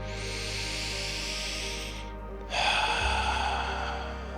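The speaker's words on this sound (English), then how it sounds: "Let's take a deep breath." A slow, deep breath, first a long drawn-in inhale, then a brief pause and a fuller, breathy exhale, close and clear over a soft sustained music drone.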